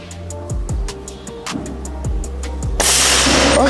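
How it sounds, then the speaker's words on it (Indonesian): A series of sharp, close gunshot-like cracks with low thumps from a PCP Marauder airgun, several in an uneven rhythm, ending in a burst of loud broadband noise. "Kita coba tembakan yang terakhir yang kelima."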